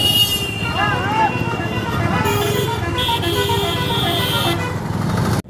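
Busy road traffic at a crowded chowk by a Shiv temple, with a steady drone of buses, cars and motorbikes and several car horns honking through it, close and continuous.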